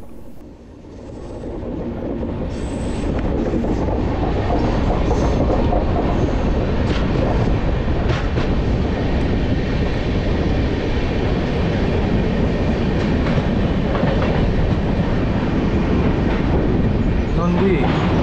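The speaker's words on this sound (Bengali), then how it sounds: "ট্রেন বাঁক নিয়ে ঢুকে যাচ্ছে জঙ্গলের মধ্যে।" The Kanchankanya Express runs through forest along a route of hills and rivers, giving a loud, steady rumble with rolling wheel clatter that builds after a brief dip and then holds constant throughout.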